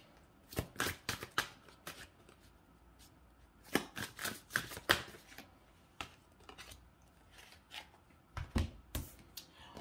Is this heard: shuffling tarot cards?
yes